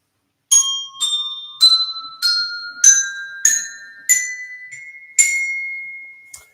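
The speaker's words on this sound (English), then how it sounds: "so here you have the Montessori music bells. Let me see if I can play it." Montessori music bells, a set of tuned solfège-note bells, struck one after another in a rising scale of eight clear metallic tones, each ringing on and decaying, played close and alone.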